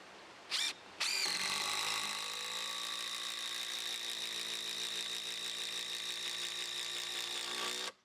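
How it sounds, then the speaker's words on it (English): An impact driver drives a 400mm long screw into timber, a brief blip, then a loud sustained whirring hammer-buzz held for about seven seconds before it cuts off, close and alone. "driving in two of the 400mm long screws using the impact driver"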